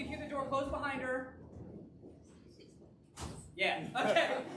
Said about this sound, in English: You can hear the door close behind her.